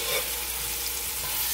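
Seasoning with onion powder, pepper and a little ketchup sizzles and fries in a small amount of oil in a pot, a steady soft crackle on its own with no talking.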